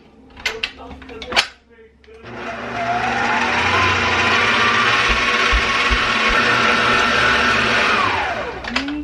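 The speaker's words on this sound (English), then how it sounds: "Now I'm going to add about a third of my milk. And I'm going to mix it up." Pumpkin spice cake batter being mixed after a third of the milk is added: a few light clinks, then a steady, loud motorized whir that runs evenly for about six seconds before winding down.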